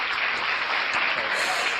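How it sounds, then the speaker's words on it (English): Brief burst of clapping at the close of an interview, a dense steady patter of hands lasting under two seconds. "Applause!"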